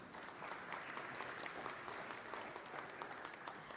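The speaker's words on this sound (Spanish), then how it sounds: "Un aplauso para él." Steady applause from an audience, many hands clapping continuously with no pauses, moderately distant.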